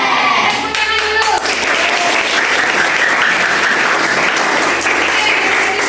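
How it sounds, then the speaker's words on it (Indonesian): A classroom group claps hands during an ice-breaking activity, bursts of clapping building into continuous dense applause that fills most of the clip, with a brief voice near the start. "Oke, kita akan kembali ice breaking, tepuk tangan."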